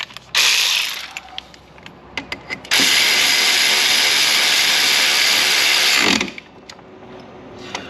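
Jet ski steering linkage on a 2024 Ultra 310 being turned in and out by hand, a close run of ratcheting mechanical clicks in two long bursts broken by short isolated clicks, with no talking.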